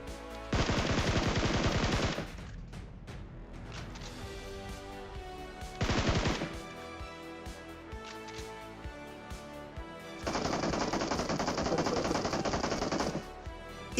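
Automatic gunfire in PUBG, with three loud sustained bursts of rapid shots separated by quieter stretches of scattered distant shots and game ambience.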